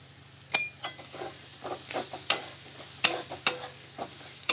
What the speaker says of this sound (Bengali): লো ফ্লেমে মশলাটা আমি কষাতে থাকবো